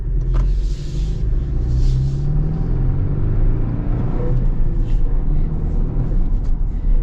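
A 2024 Toyota Tacoma with a four-cylinder engine and manual gearbox drives along, its steady low engine rumble and road noise continuous and loud throughout.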